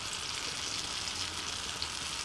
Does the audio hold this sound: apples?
yes